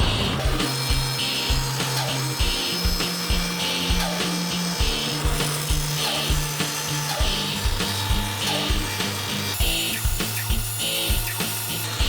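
A hand saw cuts through two wooden side pieces stuck together with carpet tape, in steady rhythmic back-and-forth strokes that run without pause, close and alone with no voices.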